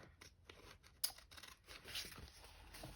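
Scissors snipping through paper, a few crisp cuts and rustles, close and fairly quiet.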